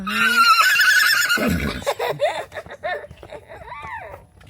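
Horse neighing loudly and close at a vacation farm offering horseback riding, a shrill whinny with a falling tail, followed by people talking nearby.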